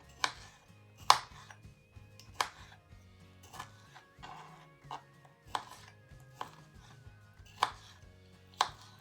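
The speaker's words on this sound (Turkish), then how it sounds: "Bunları da ufak ufak kesip kremamıza ekleyeceğim arkadaşlar." Canned peaches cut into small pieces with a knife on a board, a steady series of about a dozen sharp chopping taps roughly every half second, close and clear with no talk.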